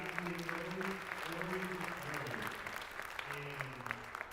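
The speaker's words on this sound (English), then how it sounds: "round of applause for our school service folks" Audience applause at a Dr. Martin Luther King Jr. Day school gathering: steady clapping from a crowd at a distance, fairly quiet, with voices and some tonal murmuring underneath.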